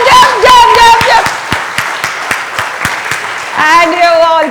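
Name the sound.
audience clapping hands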